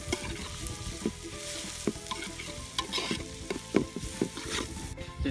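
Sliced green chillies stirred into a hot pan for egg-tapioca biryani, with steady close sizzling broken by repeated scraping clacks of a spoon against the pan, no voices.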